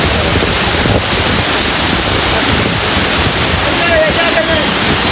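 A waterfall seen from a high viewpoint on a hill in Sitakunda gives a constant broad rushing roar. Wind buffets the microphone throughout the loud, unbroken wash of water.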